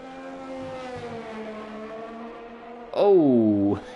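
A Formula 1 race car in F1 2020 starts a lap of the Singapore circuit, its engine whining steadily at a high pitch, then snarling louder as it revs up sharply near the end.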